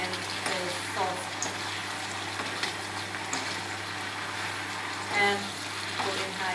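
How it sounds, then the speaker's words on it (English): Hokkien noodles frying in a pan with vegetables and sauce, a steady low sizzle with occasional stirring clatter, faint and continuous beneath a constant background hum. "time to mix the noodle very well with the veggie and the sauce"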